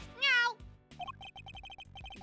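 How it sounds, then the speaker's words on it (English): A single clear cat meow from the video game Ace Attorney Investigations 2, short and rising, followed by a game's repetitive blip-like text sound effects. "Yep, that's a cat."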